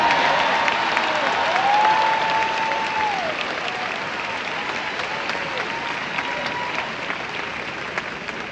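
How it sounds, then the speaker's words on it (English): Large crowd at a Chicago mayoral inauguration applauding newly elected alderpersons, sustained dense clapping with scattered whoops and cheers, loud and steady, slowly easing over several seconds. "I'm gonna turn around and clap for them"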